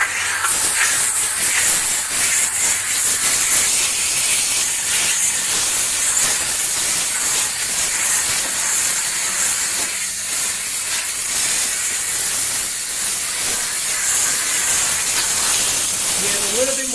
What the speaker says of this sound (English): That's the Optimum No Rinse spraying out.